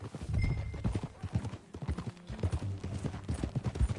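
Horse hooves clip-clop in a quick, steady rhythm while riding in a western-themed video game, close and moderately loud, with a faint whinny and some background ambience.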